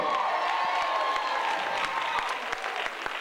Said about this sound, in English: I want you to give yourselves a big round of applause.